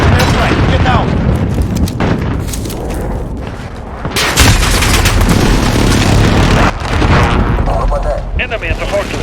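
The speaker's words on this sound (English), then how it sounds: "Airstrike, get down." Video game airstrike explosions and heavy gunfire boom loudly in dense, overlapping bursts, with rumbling blasts surging at intervals and shouted voices mixed in.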